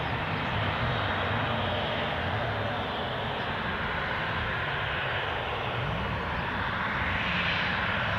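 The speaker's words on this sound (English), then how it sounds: "You're looking at a Boeing 737 to Dalaman" A Boeing 737 airliner bound for Dalaman takes off down the runway at Newcastle Airport, a loud, sustained engine roar with a steady rumbling drone that holds evenly for several seconds, no voices.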